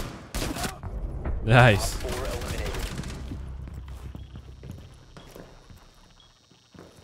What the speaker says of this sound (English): the Deagle one taps are so satisfying